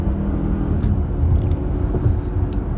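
A 2012 Acura MDX with its V6 engine at full throttle on a highway ramp, a steady low engine drone with road rumble heard from inside the cabin, no voices.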